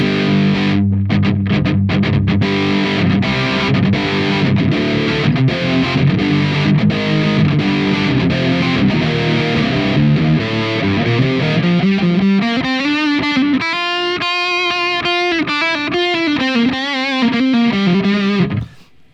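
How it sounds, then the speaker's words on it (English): Electric guitar played through the overdrive channel of a JOYO Bantamp Meteor amp, loud and crunchy, with chugging rhythmic chords giving way to sustained, singing distorted lead notes, alone without talk. "It's got clean and overdrive channel, and I think what really sets this thing apart is the overdrive channel."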